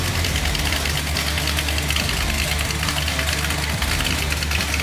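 A 1967 Chevy Impala SS V8 idles steadily up close, a continuous low rumble with a slightly uneven, lopey pulse and no talk over it.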